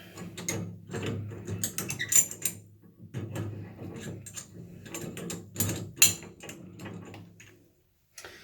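A wall-mount tub faucet stem is unthreaded by hand, giving close, irregular metallic clicks and ratcheting scrapes in uneven bursts, with a short quiet gap at the end.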